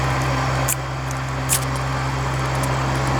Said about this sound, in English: the tractor's coming back, so I apologize about the noise